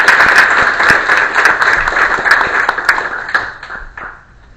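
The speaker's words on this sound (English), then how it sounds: "Now you can clap." A roomful of people claps together at an annual meeting, a dense, lively burst of applause close by that tapers off and fades out near the end.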